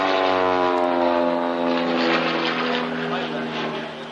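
Propeller-driven warbird flying aileron rolls at the 1994 Great Warbirds Airshow at Wroughton Airfield: a loud, steady, droning engine and propeller hum, slowly fading, with commentary heard over it.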